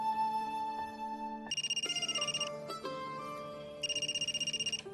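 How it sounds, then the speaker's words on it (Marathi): A mobile phone ringtone plays a bright electronic melody with repeated pulsing bursts, loud and close, with no voices over it. "त्यांचाच फोन आहे"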